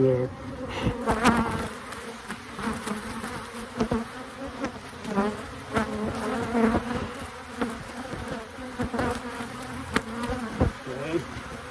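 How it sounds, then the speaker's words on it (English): Dense swarm of honey bees buzzing loudly around an open hive during an inspection, a continuous close, wavering drone with individual bees zipping past the microphone. "Look at all those bees."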